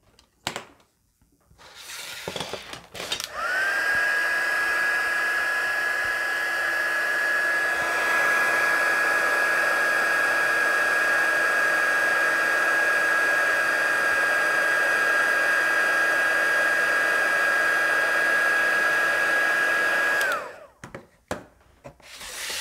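An embossing heat tool blows a steady, loud whirring roar for about seventeen seconds as it melts embossing powder on a stamped card, starting and stopping abruptly with faint handling sounds at either end.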